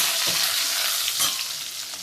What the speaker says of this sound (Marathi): अगदी हलकीशी कोथिंबीर घालणार आहे आणि सगळं परतून घ्यायचं.